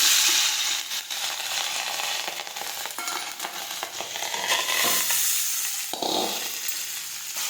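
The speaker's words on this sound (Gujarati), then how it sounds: "હવે આપણે તેમાં રાઈ અને જીરું નાખી દઈશું, હિંગ નાખીશું, બાફેલા ભાત નાખીશું" Mustard seeds, cumin, asafoetida and boiled rice hit hot oil, a loud hissing sizzle with spatula scrapes and clinks against the pan, fading and surging as it is stirred, no speech.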